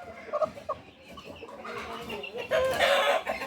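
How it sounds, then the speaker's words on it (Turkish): A Taşlı breed chicken clucking in bursts, joined by other fowl and a rooster crowing, nearby in a farmyard setting with layered calls growing louder toward the end. "Taşlı tavuk."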